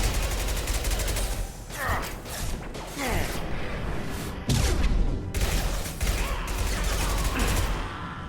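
Sustained gunfire in the video game Mass Effect 2: dense, rapid shots and sharp bursts over mechanical clatter, loud and continuous throughout.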